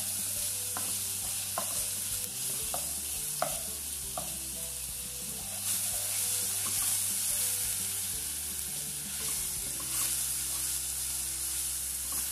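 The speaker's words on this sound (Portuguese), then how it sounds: "Fica mais gostoso quando você frita o alho já no óleo quente" Three garlic cloves fry in hot oil for simple beans, giving a steady bright sizzle close up, with occasional stirring clicks and scrapes against the pot and no talking.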